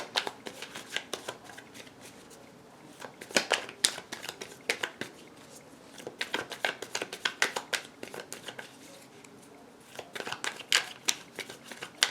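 Tarot cards are shuffled and drawn by hand, a close, crisp run of rapid riffling flicks and slaps that comes in irregular bursts, with no speech.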